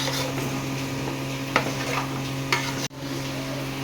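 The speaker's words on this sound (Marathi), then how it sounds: "एव्हरेस्टचा बिर्याणी मसाला घातला आणि आता परत परतून घेते" Biryani being stir-fried with Everest biryani masala, giving a low steady sizzle with a couple of scraping stir strokes and a brief clatter near the end; no talking.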